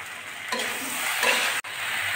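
Okra and peas stir-frying in a pan with turmeric, sugar and spices, a soft steady sizzle with a couple of scraping stirs and one brief sharp knock, fairly quiet and close.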